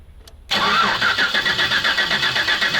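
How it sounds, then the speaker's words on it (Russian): A ZIL truck engine cranks and catches after a short silence, then runs loud and close with a rough, pulsing idle that has a regular rhythmic throb. "Давление, кстати, есть, но он не заводится"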